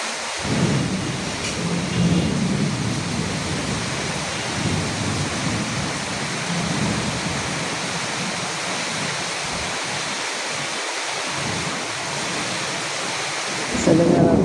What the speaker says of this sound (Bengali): বৃষ্টি আগের থেকে এখন আরো বাড়ছে। মাঝে মাঝে বজ্রপাত হচ্ছে